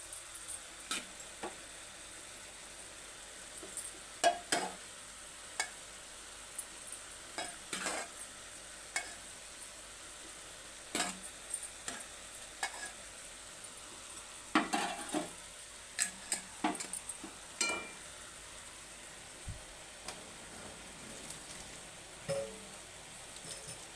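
Cooked cluster beans are stirred into mutton keema in a pan, producing a quiet background sizzle with a series of sharp scrapes and taps from the spoon spread across the clip.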